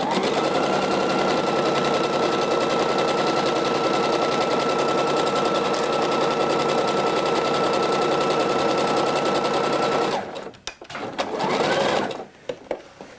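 A sewing machine stitches a French seam on a skirt, a loud, even mechanical whir that runs for about ten seconds, stops, then gives one short final burst.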